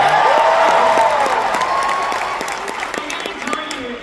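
A large crowd at a live showcase event in an arena claps and cheers loudly and continuously, the dense roar slowly easing over a few seconds, with a voice speaking over it.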